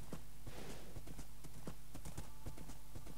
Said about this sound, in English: a great idea thinking that the horse could do a one jump thing